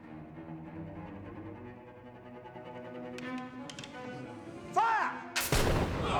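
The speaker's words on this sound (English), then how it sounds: "the painting's major sound, a musket shot" A musket shot from a militia company of musketeers in Amsterdam goes off loud and sharp near the end, preceded by a low droning sound bed with tonal swells and faint clicks.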